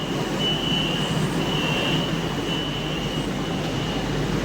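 A train pulls into a station, its broadband rumble steady and loud with a thin high squeal running through it, no voices over the noise.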